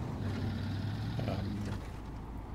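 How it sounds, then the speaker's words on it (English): A big, throaty American fuel tanker truck engine in the video game SnowRunner, a steady low idle-like drone, close and continuous with no talk over it. "I love the sound of this engine. These big, throaty American engines sound beautiful."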